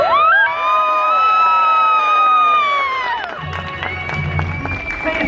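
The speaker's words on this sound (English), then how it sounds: "Everyone will clap and cheer for you." At Pier 39 in San Francisco, an outdoor street-show crowd bursts into cheering, whoops and high shouts that swell loud at first, then fade into scattered clapping and chatter.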